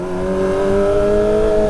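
A motorcycle engine hums steadily with a throaty exhaust tone, rising slightly in pitch, loud and close with no talking.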